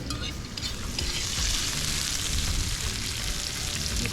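Lobster sizzles and fries steadily in a pan over an outdoor cooking fire in Jamaica, a dense, continuous crackle with occasional stirring noises, fairly close and with no talking.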